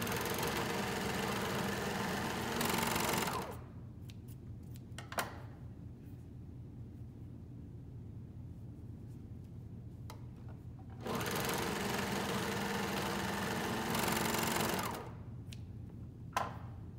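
A serger sewing machine stitching along a folded fabric edge runs in two long, steady whirring bursts, separated by a quieter pause with small clicks and handling noises.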